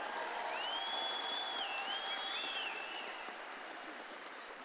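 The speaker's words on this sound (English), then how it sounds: "Let's give another round of applause." A graduation crowd applauds and cheers in a large space, a steady wash of clapping with whoops and a long whistle-like call rising above it, slowly easing in volume.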